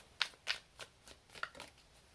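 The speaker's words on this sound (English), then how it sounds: "I had to shuffle the cards a little bit more" Tarot cards shuffled by hand in a series of quick, soft riffling snaps, about six bursts in an uneven rhythm, close and fairly quiet, with no talking.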